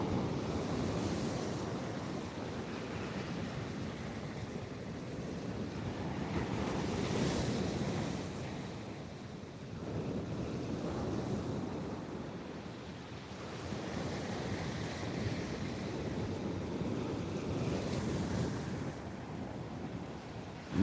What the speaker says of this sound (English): At least you can hear the sea.